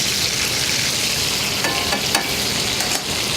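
Butter sizzling hard in a hot restaurant pan alongside scallops, a loud, dense, continuous crackle with a couple of faint utensil scrapes, no speech.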